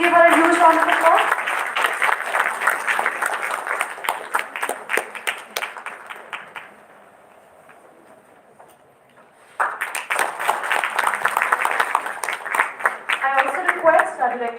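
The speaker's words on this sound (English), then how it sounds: "Please give her a huge round of applause" Applause at a dental college event, an uneven patter of individual claps that thins to near silence midway and then surges back, with a voice briefly audible among the clapping.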